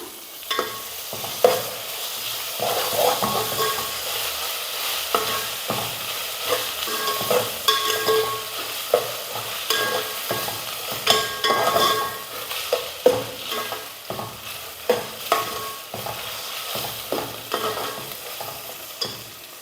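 Ginger garlic paste is stirred in a hot pan for egg biryani, with continuous frying sizzle and repeated scraping, tapping strokes of the spoon over nearly twenty seconds.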